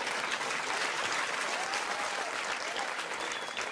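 Audience at a French comedy club bursts into sustained, dense applause, a steady wash of many hands clapping with faint crowd noise and no pauses.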